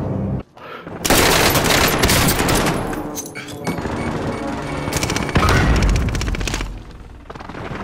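Rapid, heavy gunfire shoots through a wall in Call of Duty: Warzone, loud, close automatic bursts that go on for several seconds, with a short pause between volleys.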